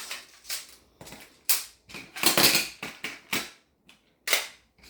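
Toy magnet tiles are flung and crash down in a series of sharp, clattering bursts, roughly a dozen loud, close impacts separated by brief pauses.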